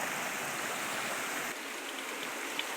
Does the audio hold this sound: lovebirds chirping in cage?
no